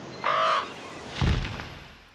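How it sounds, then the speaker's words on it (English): Crows cawing at Land's End in a film scene with wind and surf, two harsh calls about a second apart over a steady rushing background, loud and fairly close. "It's the wind and the surf and the birds."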